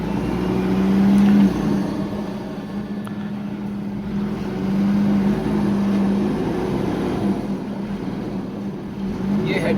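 A Force Gurkha BS6 off-roader with its rear differential lock engaged drives out of rough terrain, its engine rumbling steadily nearby and rising in revs in a few surges, with no talk over it.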